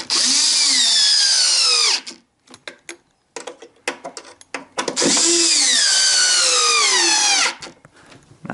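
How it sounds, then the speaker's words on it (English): An electric screwdriver drives screws into the cover of a Stihl BR600 backpack blower: two long, loud whining runs with rising pitch, separated by a stretch of clicks and handling knocks up close. "I really recommend doing this with an electric screwdriver."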